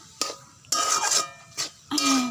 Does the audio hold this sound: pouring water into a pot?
no